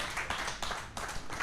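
Sparse, quiet clapping from a small audience at a Lagos health sector presentation, a few soft claps in brief irregular bursts.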